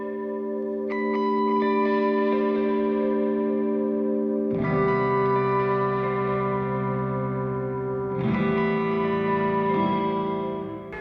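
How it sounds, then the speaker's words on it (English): Yoga class audio plays over outdoor loudspeakers in the gardens of a Buddhist temple near Wollongong, a steady sustained tonal drone with reverberant, echoing character, swelling in at two points and continuing without pause. "They've got like yoga classes playing over the loudspeakers."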